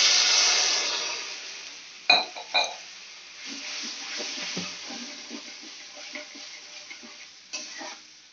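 Water poured into frying ginger, cumin, chilli and tomato spice paste for cauliflower curry, giving a loud hiss that fades into a gentle bubbling sizzle with a few sharp pan knocks.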